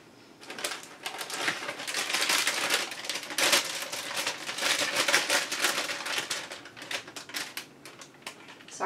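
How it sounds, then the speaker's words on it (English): Crisp crinkling of plastic packaging handled during a cigar box craft project, close and crackly. Quick irregular rustles continue throughout at a moderate level, with no speech. "Sorry about the crinkling."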